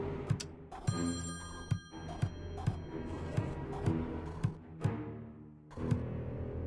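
A telephone ringing inside the puzzle game Friday the 13th: Killer Puzzle, an old-style bell tone with a steady run of sharp, evenly spaced ticking strikes, clear and close, with a brief gap before resuming.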